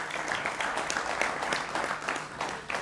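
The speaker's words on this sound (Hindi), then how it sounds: "उनका भी अभिनंदन है जोरदार तालियों के साथ" Steady, dense applause from a crowd at a Hindi television interview, continuous and fairly loud throughout, with no pauses.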